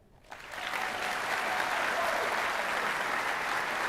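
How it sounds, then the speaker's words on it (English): An audience at an opening day address applauds for Dean Barbara Reidner. Clapping swells within the first half second into a sustained, even wash of applause that carries on steadily. "Dean Reidner, we applaud you"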